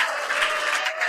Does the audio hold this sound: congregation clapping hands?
yes